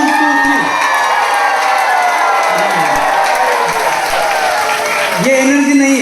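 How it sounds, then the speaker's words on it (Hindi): A large seminar audience bursts into loud, sustained clapping mixed with shouts and whoops, a dense wall of noise that holds steady throughout and swells slightly at the end. "एक बार जोरदार तालियां बजाना है"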